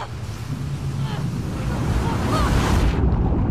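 Ocean waves surging and crashing in the video game The Last of Us Part II, a steady loud roar of surf and wind that builds and then cuts out abruptly near the end.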